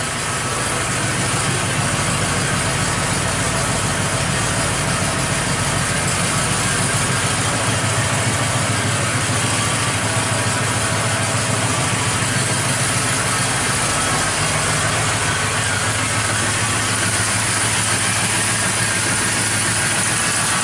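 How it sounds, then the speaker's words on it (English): A car engine idles steadily and loudly for about twenty seconds, a constant low rumble with a faint vibration and no talk, the cooling fan not clearly distinct. "We're going to run it until the fan comes on."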